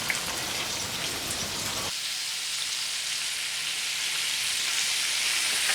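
Fish sizzles steadily in hot oil in a pan during Thai home cooking, a bright crackling hiss that drops in body partway through and then continues evenly on its own.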